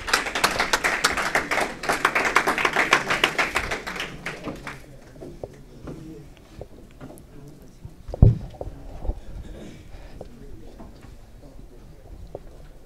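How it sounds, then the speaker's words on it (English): Audience clapping for a player called up to the stage at a youth soccer tournament event, a dense burst of applause for about four seconds that thins out into scattered claps, with a sharp thump later and some background talk. "Come up here and give him a good clap up here"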